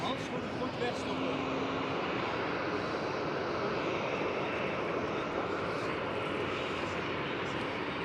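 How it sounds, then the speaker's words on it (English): A KLM Cityhopper Embraer E195-E2 jet departing Amsterdam Schiphol produces a continuous, even engine roar at a steady loudness across the whole stretch. "KLM Cityhopper E195 E2 departing"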